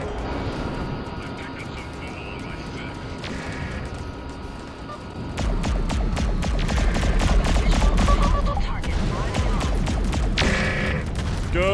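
Space combat in the Freelancer game: a steady hum and engine drone gives way to a loud rapid stream of gunfire pops with missile whooshes and booms, dense and continuous, with a voice now and then.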